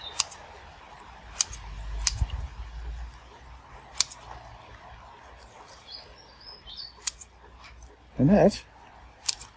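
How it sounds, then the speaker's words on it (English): New scissors snipping kumquat plant branches, several crisp sharp clicks spaced a second or two apart, with a person speaking briefly, faint bird chirps and a louder rustle near the end. "so I'm going to trim some of it off, and I'll use my brand new scissors"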